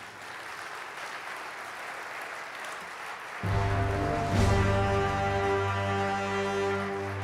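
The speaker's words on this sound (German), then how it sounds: "Das ist Ihr Applaus" Audience applause at a gala evening in Saarland, a dense steady clapping from a large crowd, then music swells in beneath it halfway through while the clapping continues.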